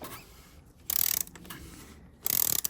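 Two bursts of rapid ratcheting clicks from a wrench loosening a car's oil filter, each lasting under half a second, close and fairly quiet, separated by a soft hiss with no talking.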